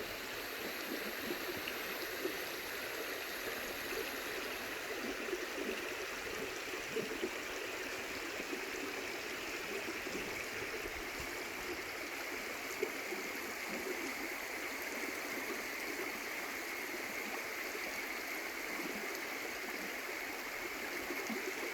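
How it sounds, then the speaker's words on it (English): A creek flows steadily outdoors, a continuous, even rush and trickle of water at moderate distance with no voices over it. "We got the sound of the creek."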